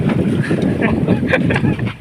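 Strong wind roars across an outdoor microphone, a loud, continuous rumbling buffet with gusty surges, and voices talk faintly underneath.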